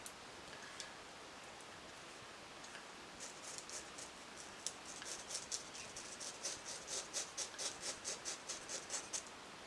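Scissors snip through a water wave bob wig, a quiet run of crisp, rhythmic cuts that grows steadier and closer toward the end, with no talking.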